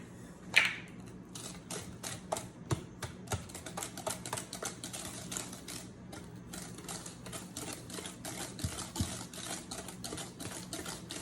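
Thick dark chocolate brownie batter being stirred by hand in a bowl, giving a steady run of rapid, close clicks and scrapes that go on throughout with no talking.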